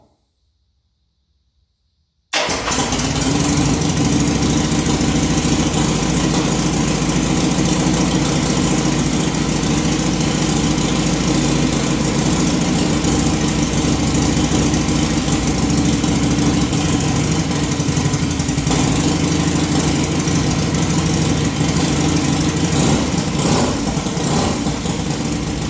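A 1981 Harley-Davidson Shovehead high-performance motorcycle engine fires up after a couple of seconds of silence, then idles loud and close with a steady, lumpy rumble for the rest of the clip.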